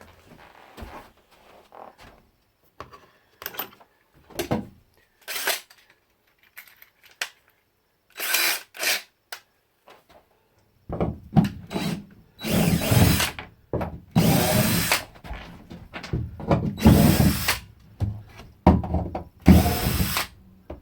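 A cordless drill backs out screws to remove a frame inside a van conversion, in short whirring bursts with clicks and rattles between them. The bursts grow louder and longer toward the end, and a voice speaks once briefly.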